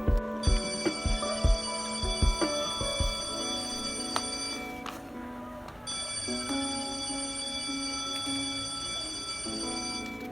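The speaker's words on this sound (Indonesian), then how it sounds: "Suara bel sekolah berbunyi" An electric school bell rings in long continuous bursts, steady and loud, with a brief pause midway before it rings again; some clattering knocks sound at the start.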